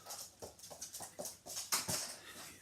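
A dog gives a run of short, loud, breathy yelps and whimpers in close succession, about eight bursts in under three seconds, heard up close with no talking.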